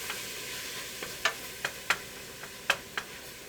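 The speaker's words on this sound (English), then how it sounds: "I'm going to cook the meat up" Ground meat for a zucchini lasagna frying in a pan, a soft steady sizzle with scattered sharp pops and clicks of spoon or spatula stirring, close and fairly quiet, no voices.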